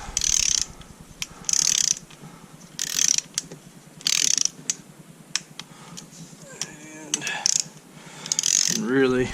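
A ratchet wrench tightens the upper intake plenum bolts on a Buick Lucerne 3.8, giving bursts of rapid close clicking in short separated runs, with a brief voice near the end.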